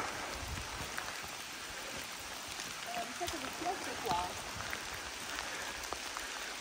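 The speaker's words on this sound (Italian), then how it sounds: "Intanto piove sempre di più." Rain patters steadily on a wet mountain trail in Monte Palodina during a descent toward the valley, a soft continuous hiss with faint scattered drops and a few distant muffled sounds.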